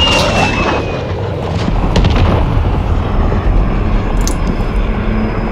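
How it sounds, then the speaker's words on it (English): Loud, dense Call of Duty Modern Warfare game audio after an allied cruise missile launch: a sustained rumbling boom with explosive crashes and a falling whine, filling the whole stretch without speech. "Allied cruise missile away. A loud game."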